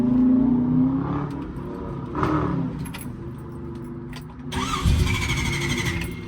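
A 1969 Chevy Nova with a 4-speed manual cranks and catches, its V8-style rumble swelling in a few throttle blips and revs, with a brief keys-jangling rattle and some shop clatter nearby.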